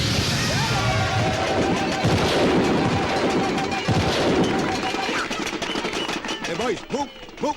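Ceremonial gunfire at a send-off for a student heading to college, heard as a dense run of sharp shots and bangs over several seconds amid voices and crowd noise.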